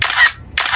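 A camera snaps a picture at a city market, heard as two loud, bright, hissy bursts a moment apart with a short gap of quiet between them.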